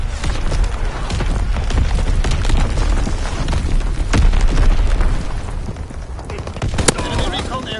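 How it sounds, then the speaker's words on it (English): Video game battle din of enemy artillery shells and a Fritz X guided bomb exploding, dense continuous booms and rumbling blasts with rapid gunfire, loud and close, with shouted alerts over it. "Incoming enemy artillery! Get to cover! Dropping Fritz X-Bomb! Enemy bomb incoming!"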